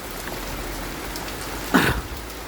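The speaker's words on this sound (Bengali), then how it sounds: "প্রচুর বৃষ্টি পড়ছে।" Heavy rain falling outside a shop, a steady dense hiss of drops throughout, with a brief cough or throat clearing near the end.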